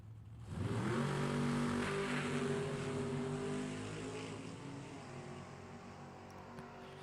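Drag race cars at an NHRA Hot Rod Heritage Series event in the B Gas class, launching with a rising engine roar that holds loud and steady down the strip, then slowly fades toward the end.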